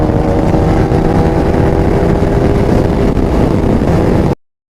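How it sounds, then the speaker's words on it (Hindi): A motorcycle ridden at high speed, heard as a loud, dense roar of engine and rushing wind that holds steady from the rider's position before cutting off abruptly. "hyper riding, over speeding"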